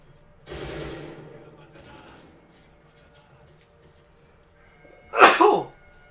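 A single loud, sharp human sneeze close to the microphone, preceded a few seconds earlier by quieter breathy vocal sounds and a pause.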